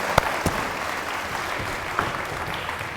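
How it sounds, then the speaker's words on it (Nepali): Studio audience applause on a Nepali TV quiz show, a steady wash of clapping lasting the whole stretch with a few sharper claps standing out, fairly close and without talk over it. "ताली बजाउनुहोस्।"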